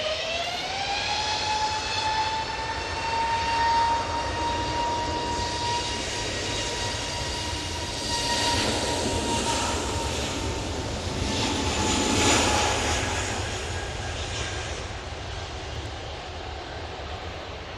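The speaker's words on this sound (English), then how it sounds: "EasyJet off to Bristol using an A320neo." An EasyJet Airbus A320neo departing Manchester Airport for Bristol gives a loud, steady jet roar with a clear engine whine that swells and fades a little as it climbs away.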